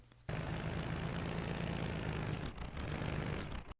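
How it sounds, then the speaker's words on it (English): Jeep engine in a driving video game, a steady droning hum much like a propeller airplane, starting abruptly and briefly dipping before resuming, alone without talk. "I will say, the Jeep sounds more like an airplane."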